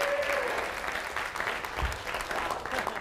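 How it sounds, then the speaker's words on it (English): An audience at a company core-values training session breaks into a lively round of applause, dense and steady for about three seconds, with a faint voice rising in the mix. "let's give you guys a round of applause."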